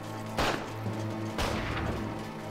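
Two heavy gunshot blasts ring out about a second apart in a wartime night raid on an enemy camp, with a constant low drone and rumble underneath.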